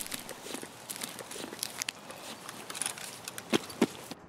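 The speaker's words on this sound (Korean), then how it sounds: "발소리가 났었는데?" Footsteps in the shooter game Escape from Tarkov: a run of quiet, irregular steps over low background noise, with two slightly louder, nearer thuds toward the end. No one speaks.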